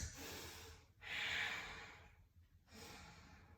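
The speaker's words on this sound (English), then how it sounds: "deep ujjayi breaths" Deep ujjayi breathing during a vinyasa yoga flow: slow, close, airy breaths in two long drawn-out passes with a short pause between, steady and fairly quiet, with no talking.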